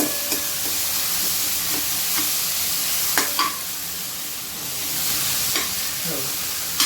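Five chopped onions frying in a few spoonfuls of hot oil, stirred in a pan: a steady sizzle broken by scattered sharp scrapes and clicks of the spoon.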